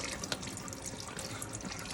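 Tap water runs steadily into a sink as a paint palette is rinsed clean, a continuous close splashing and trickling with no voices.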